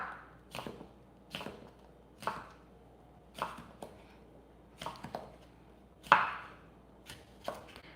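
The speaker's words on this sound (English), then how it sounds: "I cut it in fours and then I just chop it up." A knife chops a quartered cucumber on a cutting board in a quiet kitchen, about ten sharp, close taps spaced unevenly, each with a short ringing tail and no talking.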